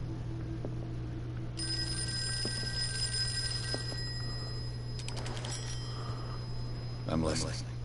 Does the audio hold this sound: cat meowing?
no